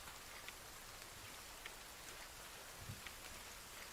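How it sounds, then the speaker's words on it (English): Steady rain falls in The Forest survival video game, a dense, even hiss of droplets with occasional louder drips, continuous and moderately quiet with no talk. "while it's raining"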